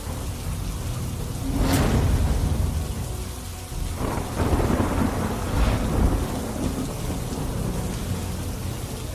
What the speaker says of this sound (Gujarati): ધીમી ધારે વરસાદની શરૂઆત અહીંયા થઈ છે